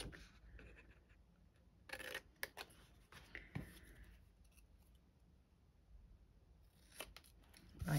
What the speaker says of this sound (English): with my scissors, I'm just going to chop around that really close to it